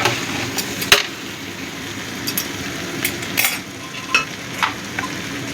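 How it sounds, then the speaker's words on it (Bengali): Potatoes are stirred into a mutton mince curry in a pan, with a steady sizzle under repeated scrapes and clinks of a spoon against the pan. "আলুটাও ভালো করে মিশিয়ে দিচ্ছি"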